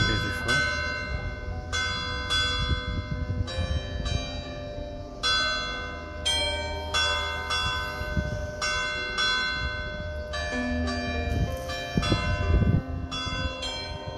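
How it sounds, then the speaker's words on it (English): Church bells peal in an Italian town at seven o'clock, repeated rings with long overlapping tones over a low background hum, steady and fairly loud throughout. "The bells are ringing."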